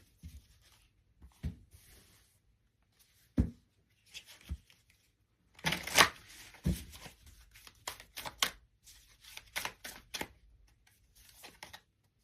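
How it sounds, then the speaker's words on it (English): Oracle cards are drawn and shuffled from a deck: soft, close, intermittent papery slides, flicks and snaps in irregular bursts, with quiet gaps between and no talking. "I'm just going to pull the 3 cards, and then I am going to share them with you."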